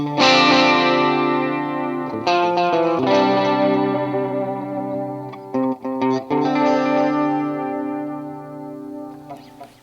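Electric guitar played through TC Electronic Corona Chorus and Flashback delay mini pedals, ringing chords with shimmering chorus and trailing echoes, loud and alone.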